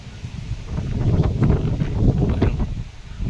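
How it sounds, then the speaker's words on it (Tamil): Strong wind gusting through neem trees in a garden during a rain shower, a loud, continuous roar with rustling leaves that swells and eases without a break. "பயங்கரமான காற்று காற்று அதிகமாக வீசிட்டு இருக்குது"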